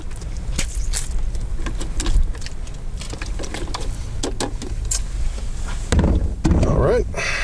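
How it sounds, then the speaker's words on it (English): A plastic film developing tank is shaken by hand outdoors in the desert, giving a series of irregular sloshing knocks and thumps, close by, with someone talking between them. "Give that a nice little shake."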